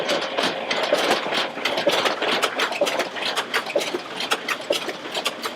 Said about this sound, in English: Machine's running along fine.